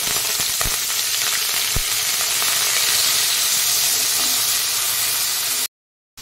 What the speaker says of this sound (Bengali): এইবার বয়েল করে রাখা ব্রোকলিগুলো আমি তেলে দিয়ে দেব, দিয়ে এটাকে ফ্রাই করে নেব।